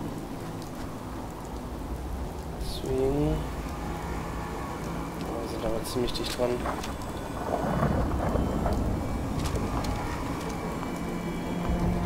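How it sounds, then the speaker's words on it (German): Steady rain with rumbling thunder in the video game Fallout 4, heard under someone talking and rising into a louder roll toward the middle and end. "Das scheint zumindest kein radioaktiver Regen zu sein."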